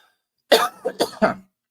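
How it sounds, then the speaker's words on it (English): A close, harsh coughing fit of about four rapid coughs in a row, then quiet. "trying not to die from this cough"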